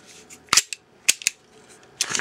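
An airsoft pistol with semi, full-auto and safety modes that takes green gas magazines, giving a few sharp, close snapping shots spaced out over a couple of seconds in a quiet room.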